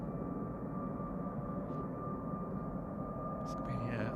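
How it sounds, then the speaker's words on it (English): A FedEx Boeing 777 passes overhead near Manchester Airport, a steady low roar of jet engines that stays fairly constant and distant throughout, with no talk. "FedEx 777 just flying over the top."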